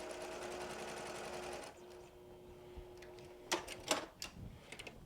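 A sewing machine stitches fabric in a steady, even whir for under two seconds and then stops, leaving quieter handling clicks and taps close by.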